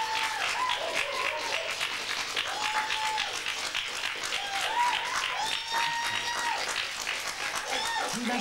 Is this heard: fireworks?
no